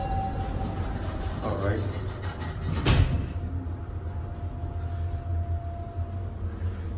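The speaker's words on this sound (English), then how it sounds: "Here's the southbound express train." A SEPTA southbound express subway train at a Philadelphia station, Walnut-Locust, rumbles on the platform with a sharp metallic screech midway and a rising whine, while a person speaks briefly.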